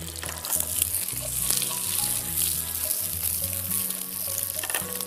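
Dried chillies fry in a hot pan with steady sizzling and crackle, while a spoon stirs and scrapes through the oil at close range.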